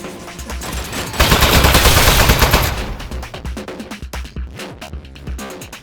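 Rapid automatic fire from an Aperture turret in Aperture Desk Job, a loud sustained burst of shots that gives way to separate sharp cracks and clatter, with no talking over it.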